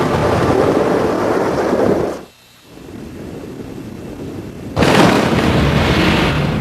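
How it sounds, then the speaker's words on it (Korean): Thunder rolls through a thunderstorm with rain, a loud, sustained rumbling roar that drops briefly to a quieter stretch and then surges back at full strength, with no voices. "천둥은 누구에게나 익숙하지만 사실 천둥이란 번개가 내는 소리에 불과합니다."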